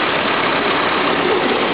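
A Nissan S15 Autech Silvia, a non-turbo engine with a factory exhaust manifold, idles with a steady, loud, even rumble recorded close up and alone, without talk.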